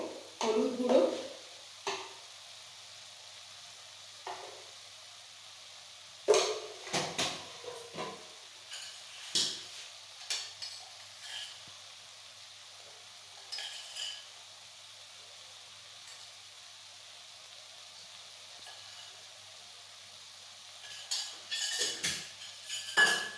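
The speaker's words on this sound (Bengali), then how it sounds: "এবার আমি মশলাটা ভালো করে একটু কষে নেব" Chili powder and spices being stir-fried in a pan for a prawn curry, bursts of sizzling and scraping with clinks of a metal spoon against the pan, separated by quiet pauses, close and without talk.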